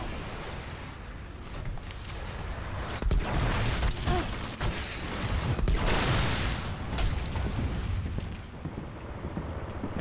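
Rapid, sustained turret gunfire in the video game Destiny, a dense, loud barrage of shots and booms rolling on without pause for the whole stretch.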